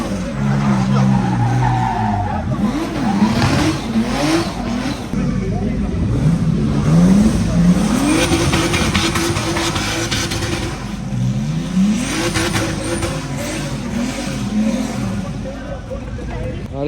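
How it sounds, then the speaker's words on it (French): Cars drift at a street event in Romania, tires squealing and engines revving in repeated waves, loud and sustained throughout with people talking over it. "on a passé 2 heures à regarder des drifts là"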